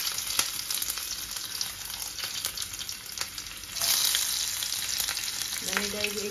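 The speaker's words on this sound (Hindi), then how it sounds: "उससे मैंने तेल गरम कर लिया, इसमें डालते हैं एक चम्मच जीरा, फिर मैंने हरी मिर्च और अदरक को काट लिया है" Cumin seeds, green chili and ginger sizzle in hot oil, a steady crackling hiss with stirring clicks that grows louder partway through.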